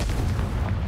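A Confringo fire spell from the Hogwarts Legacy video game bursts in a loud, booming blast that fills the short moment with a dense low rumble and no voices.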